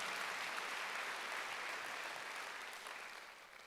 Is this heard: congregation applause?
yes